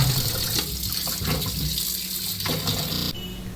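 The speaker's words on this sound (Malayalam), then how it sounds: "അതിന് വേണ്ടിയിട്ട് ഞാൻ ഈ ഭരണിയിലേക്ക് ആവശ്യത്തിന് വെള്ളം ഒഴിച്ചു കൊടുക്കുന്നുണ്ട്" Water pours steadily into a jar for soaking mangoes, a continuous splashing stream running throughout with no talk.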